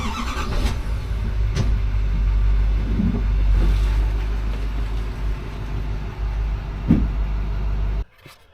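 A pickup truck pulls away after being unhooked from a Harmar horse trailer, its engine a steady loud rumble that holds throughout and then cuts off abruptly near the end.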